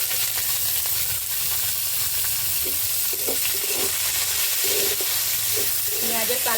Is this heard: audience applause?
no